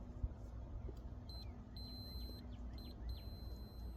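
A multimeter gives faint, short, high electronic beeps in a few intermittent bursts while testing continuity across boat ignition terminals, quiet against a low background hum.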